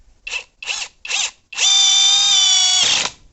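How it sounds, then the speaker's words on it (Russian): A cordless ENZT 600 Nm impact wrench drives self-tapping screws into a chunk of wooden log, firing three short, close bursts before one long, steady, loud whirring run that cuts off abruptly, with no talking. "И давайте-ка их повкручиваем вот в данное дерево."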